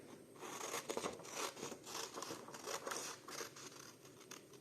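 Scissors cutting through a glossy magazine page, a steady run of close, crisp snipping and paper rustling with soft crinkles, moderately quiet and with no voices.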